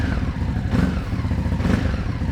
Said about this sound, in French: comme vous pouvez l'entendre, la moto sonne un peu fort, hein. C'est vraiment un bicylindre énervé.